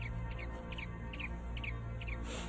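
Small bird chirps in a park, repeated short tweets in several bursts, faint against steady low background rumble.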